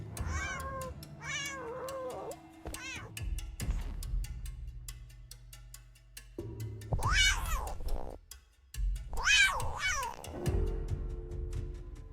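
A cat meows repeatedly, several drawn-out, wavering cries spread across the clip, close by with low background rumble between them.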